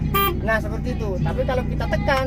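An Iveco 682 dump truck with a 340 hp engine gives short, bright horn toots, repeated several times in quick bursts while someone talks over them close by.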